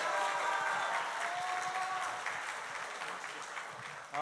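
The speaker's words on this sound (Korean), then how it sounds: "더 큰 박수로 환영해 주시길 바랍니다" A church congregation applauds to welcome a missionary, a moderate continuous clapping that tapers slightly before a final louder burst at the end.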